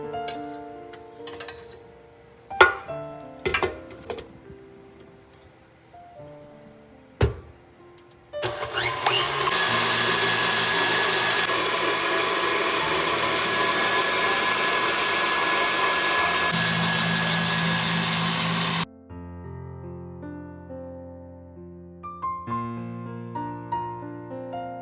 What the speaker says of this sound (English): So I'm ready to beat the egg whites.